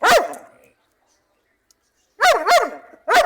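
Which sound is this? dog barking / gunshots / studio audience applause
dog barking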